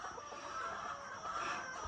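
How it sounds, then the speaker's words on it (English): Chickens cluck in a coop on a 50-acre farm in Ghana during egg collection, a faint, steady background of soft clucking and fowl chatter with no voices over it. "I came down here to pick up the eggs from the chickens"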